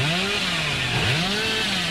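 Hillbilly's chainsaw revving in the Dead by Daylight video game on PS4, a loud steady buzzing engine whine with rising and falling pitch sweeps, continuous throughout with no talk.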